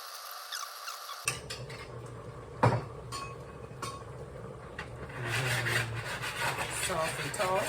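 A spoon scrapes and rasps against a pan while cooked shrimp scampi is served from it. The scraping comes in short, uneven strokes over a low background hum, with faint voices near the end.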